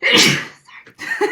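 A single loud, close sneeze bursts out, followed by a brief spoken apology from a person.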